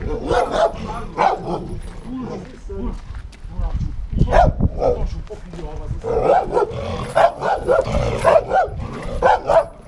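A dog barks repeatedly and loudly at a rural homestead in Mongolia, with growls and yips mixed in, while people talk nearby over the barking.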